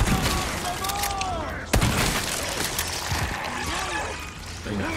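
Shotgun blasts in the video game Resident Evil 4 Remake, a few heavy booming shots with one sharp crack near the middle, over chaotic in-game clatter and enemy noises.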